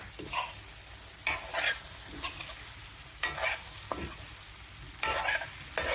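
Boiled potatoes stirred into tomatoes and poha in a hot pan, a soft continuous sizzle broken by several scraping spatula strokes at uneven intervals, close and fairly quiet with no talk.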